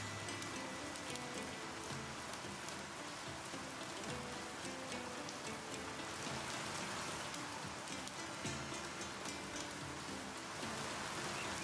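Steady rain in the Pompeii city-builder video game patters continuously over a dense wash of noise, with faint music-like tones underneath, constant and even throughout.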